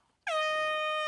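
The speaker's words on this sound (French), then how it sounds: "Ah, le camion du klaxon." A truck air horn in a cartoon blares once, loud and sustained, after a brief near-silent moment.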